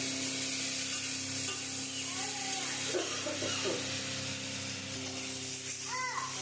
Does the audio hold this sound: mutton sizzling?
yes